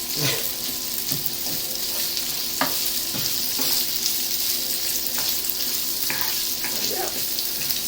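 Minced meat frying in a pan for spaghetti bolognese, a steady bright sizzle with occasional scraping knocks of a utensil as it is stirred.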